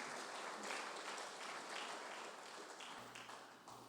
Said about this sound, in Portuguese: As palmas para o Senhor nesta manhã.